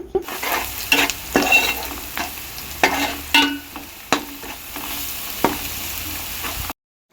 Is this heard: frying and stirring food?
yes